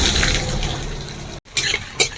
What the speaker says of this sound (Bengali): তো এই কেটে রাখা পেঁয়াজগুলো দিয়ে দেব।